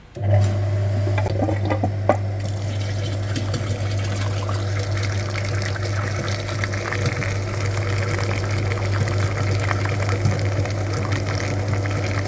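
A coolant flushing machine steadily pumps liquid through the cooling system of an Opel Vectra B, producing a continuous loud droning hum with a constant gushing, churning wash of fluid and no talk.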